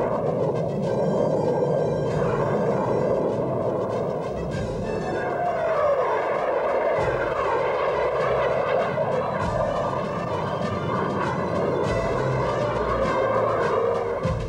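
Test airplanes roaring through the sky over Edwards, a loud, continuous engine roar with a shifting, whining tone that swells and rumbles across the whole span, with no voices.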